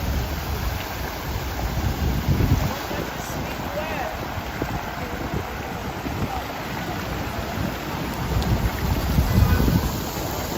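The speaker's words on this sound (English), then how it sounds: "This is like torrents of water." Torrents of water rush in Central Park, New York, a broad, continuous roar that swells near the start and end, heard close with wind buffeting the microphone.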